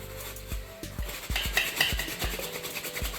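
A Coach purse lining scrubbed with a brush while being cleaned, producing rhythmic rasping strokes about twice a second, close and fairly loud with no talking.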